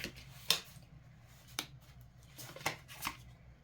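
Tarot cards being shuffled and drawn: several short crisp riffles and snaps spaced apart over a faint low hum, close and fairly quiet.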